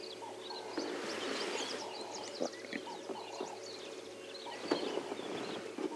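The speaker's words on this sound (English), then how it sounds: "Beautiful sounds of the doves." Doves calling in the African bush during a morning safari drive, their soft repeated coos mixed with chirping birds and insect hum in a steady outdoor ambience, moderately distant.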